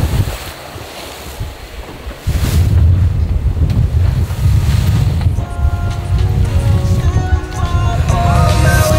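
A Neel trimaran pounds across a rough, bumpy sea in strong wind. Loud, continuous rushing water and wind buffeting fill the clip, with heavier surging slaps from about two seconds on and faint tonal creaks or whistles later.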